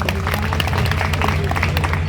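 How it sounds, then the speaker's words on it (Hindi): A crowd at a village fundraising gathering for a girl's education claps loudly, dense steady applause lasting the whole couple of seconds. "जोरदार ताली बजा दीजिए।"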